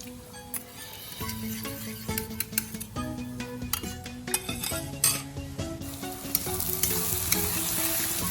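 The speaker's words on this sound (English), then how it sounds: "Here again mix some soy sauce and vinegar." Garlic egg fried rice with soy sauce and vinegar sizzles in a pan while a utensil stirs it, with frequent scraping, clinks and taps against the pan over a steady frying hiss.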